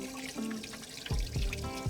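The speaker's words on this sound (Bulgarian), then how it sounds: "сега мога да я изплакна много добре с студена вода" Marinated mackerel rinsed under cold running tap water, a steady close trickle and splash with a few heavier gushes of flow near the end, no talk.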